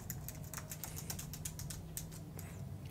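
Quiet, quick keystrokes tap out on a computer keyboard as a username and password are typed, an irregular run of light clicks with no talking.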